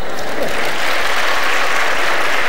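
A debate audience in a Spanish political hall, at the 2015 Albert Rivera vs Pablo Iglesias debate, breaks into loud, sustained applause, a dense wash of clapping with no voices over it.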